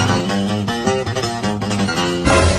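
A guitar plays a short run of plucked notes, clear and fairly loud with distinct note changes, followed by a sudden broader noisy burst at the end.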